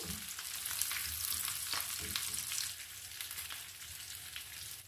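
Potato and chana dal kababs fry in hot oil in a pan, a steady, fairly faint crackling sizzle heard close up with a few soft bubbling pops and no talking.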